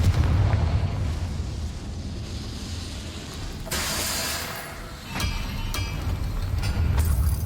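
A Confringo blasting spell in Hogwarts Legacy erupts in a booming blast over a low, continuous rumble, followed by a few sharp cracks and a sustained roar.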